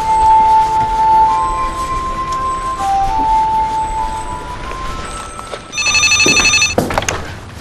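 A landline telephone rings in a home, a loud electronic trill bursting out near the end, with a quieter beeping tone earlier.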